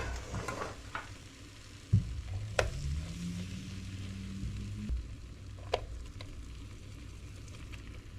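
Pork chops go back into a hot pan, bringing a close, steady sizzle of frying with scattered clinks and scrapes from the pan and utensils, and a low tone humming beneath for a few seconds.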